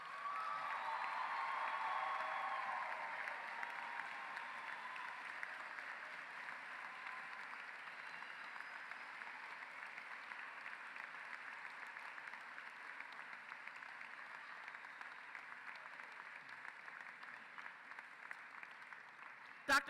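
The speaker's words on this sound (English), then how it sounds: "let's show our gratitude and appreciation for Dr. Clay Carmichael with a warm round of applause" A graduation audience at Pedro Menendez High School applauds its principal, Dr. Clay Carmichael, with sustained applause. It is loudest at the start, then settles into a steady, even wash of clapping heard from a distance.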